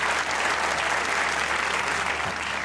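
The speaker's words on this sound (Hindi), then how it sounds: "ठीक भाई, वाह, तालियां होनी चाहिए।" Studio audience at a comedy talk show interview breaking into brief, steady applause, a dense continuous clatter of many hands at moderate loudness.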